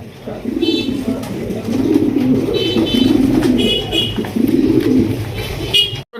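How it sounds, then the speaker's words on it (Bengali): Silver-coloured Lahori pigeons coo in repeated low, throaty phrases close by, with higher chirps and twittering scattered over the steady cooing. "একজোড়া সিলভার কালারের লাহড়ি কবুতর"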